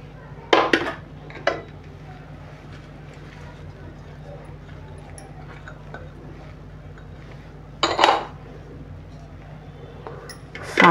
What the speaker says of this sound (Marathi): आता आपण एक अशी जाड बुडाची अशी कढई घ्यायची, त्याच्यामध्ये हे सर्व घालून घ्यायचं